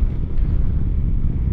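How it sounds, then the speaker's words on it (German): Wind noise while riding a Piaggio Beverly 300 scooter fitted with a windshield: a loud, continuous low roar and buffeting rumble that fills the whole clip without letup. "was jetzt die Windgeräusche machen"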